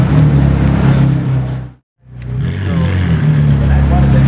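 A brand-new McLaren Senna in F1 silver roars loudly and steadily up close, its deep engine drone briefly cut off before returning, with voices talking excitedly over it.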